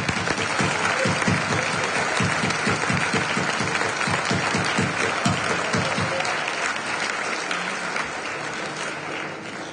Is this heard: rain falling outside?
no